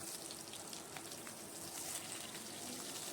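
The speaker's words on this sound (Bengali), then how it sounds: "এবার কালো জিরে আর কাঁচা লঙ্কা ফোড়ন দিয়ে দিলাম" Nigella seeds and green chilies tempering in hot oil make a faint, continuous crackling sizzle, a fine spattering hiss with occasional small pops.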